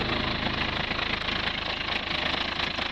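A 1988 International 1854 4x4 diesel dump truck engine idles loudly up close, with slight blow-by, a steady rapid knocking throb and broad mechanical roar throughout.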